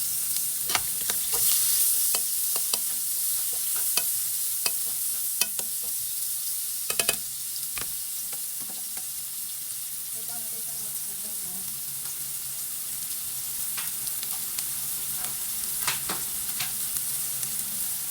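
Onion and garlic frying in a hot pan, a constant close sizzle running throughout while a utensil stirs and taps the pan in scattered, irregular clicks, with no one speaking.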